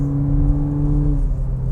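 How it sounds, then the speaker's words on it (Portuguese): VW Virtus GTS sports car engine pulling in first gear under acceleration with turbo pressure rising, a steady close engine drone and tone without talk. "É um ruído de carro esportivo."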